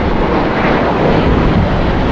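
A loud, close, continuous jet roar from an aircraft at LAX airport fills the whole stretch, broadband and steady with no voices over it.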